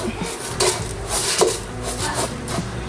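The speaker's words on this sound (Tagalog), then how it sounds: "Haluin ko lang po ng maigi." Smoked fish being stirred with brown sugar in a bowl, giving scraping, clinking strokes of a utensil against the bowl in an uneven rhythm, close and moderately loud.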